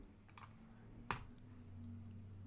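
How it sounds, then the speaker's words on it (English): Computer keyboard keys click sparsely, with a few soft taps and one sharper click, during a game-development livestream, set against a steady low electrical hum in a quiet room. "And you get to hear my fancy clicking sounds"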